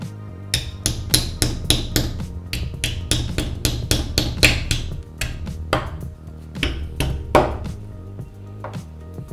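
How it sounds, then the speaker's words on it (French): Hard bonsai substrate grains of pumice, pozzolana and kanuma being struck and crushed, a long run of sharp, close knocking impacts in quick irregular bursts with brief pauses, no voices. "on va prendre un grain de chaque et on va essayer de les écraser"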